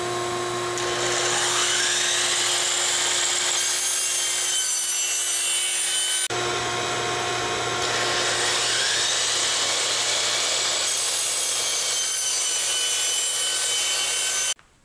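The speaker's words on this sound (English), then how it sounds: "I'm going to use my miter saw" A miter saw powered through an inverter cuts Schedule 40 PVC pipe in two passes, each a loud sustained whining, grinding cut with a high motor tone, the second ending in an abrupt stop.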